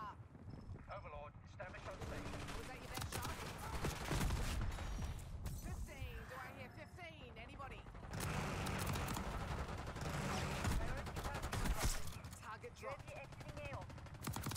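Shotgun blasts in the Black Ops 6 first-person shooter, using the Marine SP in a multiplayer match: dense, repeated loud gunfire with busy game effects, running under a player's talk throughout.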